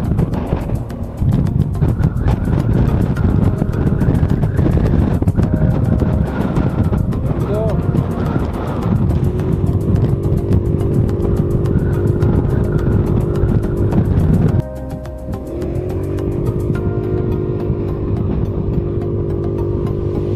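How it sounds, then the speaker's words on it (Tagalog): An Evo Deluxe 150 motorcycle engine strains loudly while climbing a scenic mountain road, with heavy wind buffeting the microphone and the engine pitch shifting up and down before easing near the end. "sobrang umiiyak na yung makina ng Evo Deluxe 150 natin."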